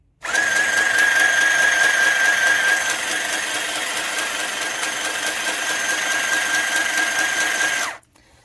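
A Magicfly mini portable sewing machine whirs loudly and continuously for several seconds with a high motor whine while running without the pedal pressed, then abruptly stops, leaving near silence.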